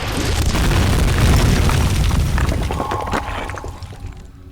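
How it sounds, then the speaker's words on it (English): A loud explosion in the video game Amnesia booms out, then breaking and shattering debris clatters and fades over a few seconds. "It's going to explode."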